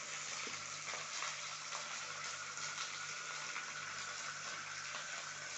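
Pui greens being stirred in a pan with salt and turmeric give a steady, close sizzle of frying, with a continuous scraping and crackling texture that never lets up.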